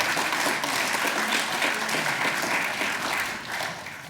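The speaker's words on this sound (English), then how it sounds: "A little applause would be great." Sustained applause from an audience at a chamber of commerce board installation ceremony, dense clapping that stays loud throughout and fades slightly near the end.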